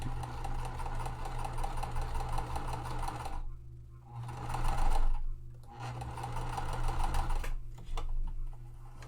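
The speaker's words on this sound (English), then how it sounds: "my machine today wants to keep eating my fabric" A sewing machine stitches cotton fabric for a quilt, running in steady rapid bursts with two short pauses between runs, close and fairly loud.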